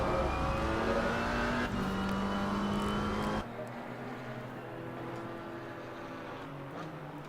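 A powerful Maserati GT4 racing engine roars loudly nearby at Brands Hatch, its pitch shifting and then dropping away as the car passes, with a steady droning engine tone continuing afterward.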